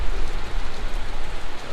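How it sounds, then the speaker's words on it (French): Steady rain falling in Cayenne, heard outdoors as a loud, dense, continuous patter on surfaces with no pauses and no voices. "malgré la pluie"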